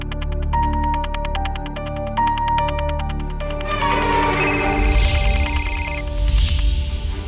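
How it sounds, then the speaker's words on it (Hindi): A telephone rings repeatedly in steady bursts, loud and close, with no one picking up; the tone grows busier toward the end. "ये राघव फोन क्यों नहीं उठा रहा?"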